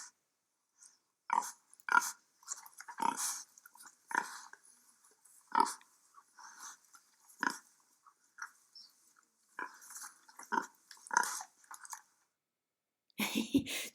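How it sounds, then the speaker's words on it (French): Pigs grunt in short, irregular bursts, close and fairly quiet, with brief pauses between snorts and some chewing-like sounds. "Écoute comme ils grognent."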